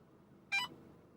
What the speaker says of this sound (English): just give you a single beep and let you know that, hey, there's a K-band signal present